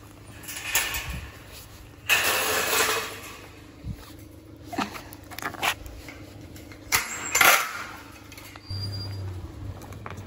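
A door is opened with several short rattling, sliding and clunking knocks spread unevenly over ten seconds, fairly close by with light background noise.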